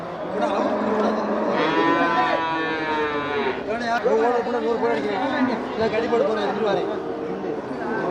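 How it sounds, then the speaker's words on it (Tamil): Cattle at the Paramakudi livestock market, with moos rising over a steady crowd murmur and nearby people talking throughout. "இது குட்டை மாடாண்ணா?"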